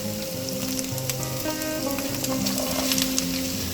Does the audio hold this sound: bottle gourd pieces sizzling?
yes